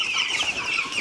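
Ross 308 broiler chicks in a brooder give a dense, continuous chorus of high peeping and cheeping that stays close and steady throughout, with no voices over it.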